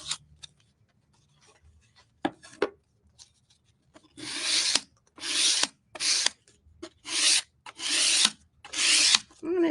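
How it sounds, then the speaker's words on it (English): Sandpaper rasps across wooden shiplap valleys in a run of short, rhythmic back-and-forth strokes, loud and close, after a few scattered light scrapes and taps. "I'm going to take this sandpaper right along these kind of shiplap valleys here."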